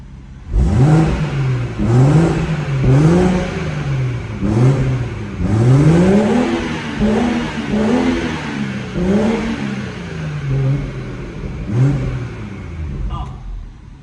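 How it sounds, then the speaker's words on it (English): A warmed-up BMW M140i car engine revs repeatedly in rising and falling surges, loud and close, with a steady idle rumble between the bursts. "We'll just give that engine another rev now it's warmed up."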